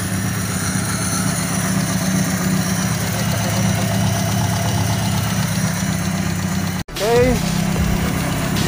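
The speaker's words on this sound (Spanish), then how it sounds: "Prende con falla, poco a poco va estabilizando." Chevrolet Aveo engine with bent valves idling roughly and unevenly on its first start after repair, a close, steady mid-pitched chugging that briefly cuts out, then picks back up; someone speaks briefly.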